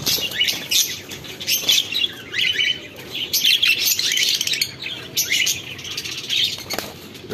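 Finches chirp steadily in an aviary holding two females and one male, with dense, overlapping tweets, occasional squawks and bursts of wing flapping close by.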